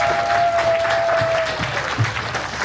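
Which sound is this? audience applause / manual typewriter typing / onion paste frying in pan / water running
audience applause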